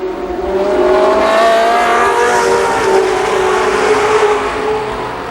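Race cars roar around the oval at Columbus Motor Speedway, a loud, continuous rising and falling engine drone as several cars pass close by with no voices.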